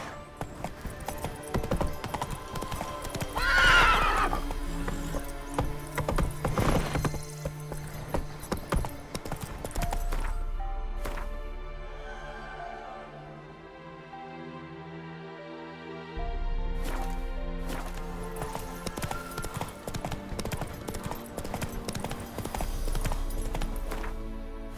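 Hooves of Roach, a horse in The Witcher 3: Wild Hunt, clip-clop steadily at a gallop across the whole stretch, loud and close over in-game music and ambience, with a brief whinny near the start.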